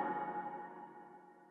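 A percussion hit processed through a hybrid convolution reverb, sounding as a single sustained, tonal wash that decays slowly and alone.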